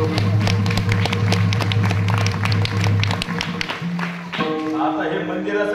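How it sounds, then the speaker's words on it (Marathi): An audience at a kirtan gathering in a village temple claps briskly and continuously, the dense applause dropping off partway through as a voice and music take over. "आता हे मंदिरासाठी टाळ्या वाजवले ना"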